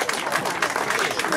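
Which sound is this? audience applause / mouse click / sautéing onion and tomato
audience applause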